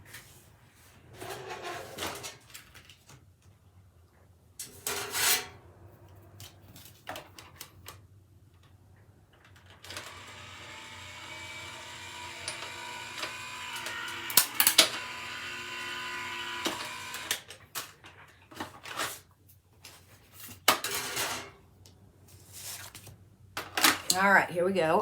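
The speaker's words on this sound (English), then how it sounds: "Now let's run that through the die cutting machine." A die cutting machine feeds a Valentine buckle card through with a steady mechanical whir of several seconds, framed by clicks and handling noises and quiet talk.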